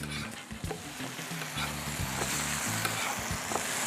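French toast sizzles steadily in a hot pan, broken by scraping spatula strokes and soft thumps as the slices are flipped. It is close and clear, with no voices.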